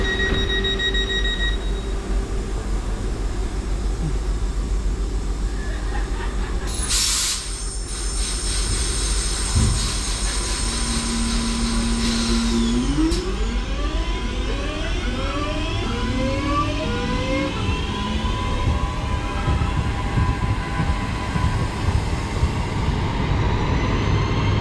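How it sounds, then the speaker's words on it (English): A train pulls away from a St Helens platform in Merseyside, with a rumbling rail bed, a sharp high chime or alarm tone, and rising whine and wheel squeal as it picks up speed, heard steadily from the platform without talk. "this train's actually heading off now"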